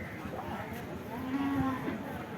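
A large, tall cow at a cattle market gives a single drawn-out moo over the steady din of the crowded market, with voices in the background.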